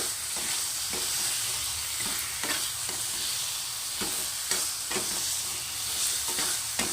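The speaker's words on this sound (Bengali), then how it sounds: "সেই চিকেনটাকে এখন দিয়ে দিলাম তো এটাকে আমি খুব ভালো করে কষিয়ে নেব" Marinated chicken, coated in ginger and garlic, sautés in a hot pan for a dhaba-style curry, with a steady broad sizzle and regular scraping stirs of the spoon throughout, close and fairly loud, no talking.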